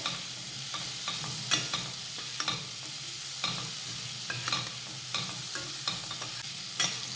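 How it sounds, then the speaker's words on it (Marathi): Green chillies coated in spice are stirred with salt in a pan as part of a tiffin vegetable dish, giving a steady close sizzle broken by repeated scraping clicks of the spoon against the pan. "आता यामध्ये घालूयात चवीनुसार मीठ मीठ घातल्यानंतर व्यवस्थित मिक्स करून घेऊयात"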